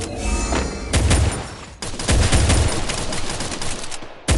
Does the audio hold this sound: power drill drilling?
no